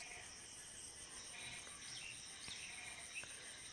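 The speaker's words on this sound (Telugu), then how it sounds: "కప్పుల రణం అయితే మళ్ళీ స్టార్ట్ చేసేసినాయి" Frogs croak in a faint, continuous distant chorus of high trilling calls, steady throughout with no talking.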